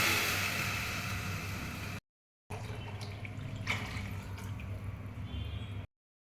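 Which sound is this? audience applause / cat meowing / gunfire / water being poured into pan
water being poured into pan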